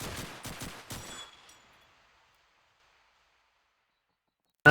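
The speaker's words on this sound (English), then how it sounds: "Shots being rattled off, but no connections just yet." Gunfire in Call of Duty 2 on the Dawnville map, a quick run of distinct rifle shots rattling off over about a second and fading into silence, then one more sharp report at the end.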